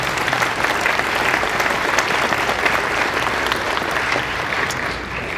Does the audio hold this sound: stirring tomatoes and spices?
no